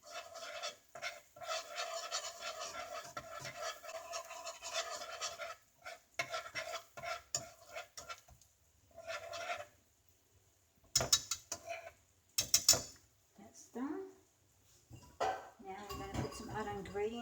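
A whisk beats a lumpy mixture in a bowl for an allergy-free shepherd's pie, giving bursts of quick scraping and clinking strokes that start and stop, with a few louder metallic knocks between pauses.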